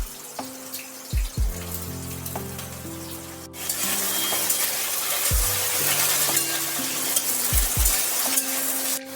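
Sliced pointed gourd (potol) drops into hot oil in a pan and starts to sizzle, with a steady frying hiss, occasional stirring clatter, and tonal kitchen hum and running tap water in the background; no one speaks.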